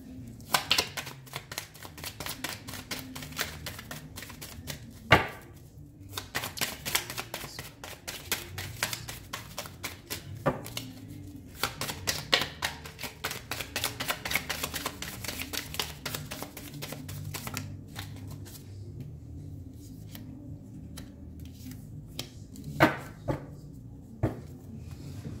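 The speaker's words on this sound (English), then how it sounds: "Shuffling on camera is time consuming." Tarot cards being shuffled by hand, heard as dense runs of rapid riffling clicks and soft slaps in bursts with short pauses, close and fairly quiet, with no talking.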